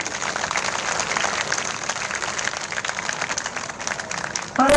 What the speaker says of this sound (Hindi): सभी का स्वागत एक बार जोरदार तालियों से आप सब कर लें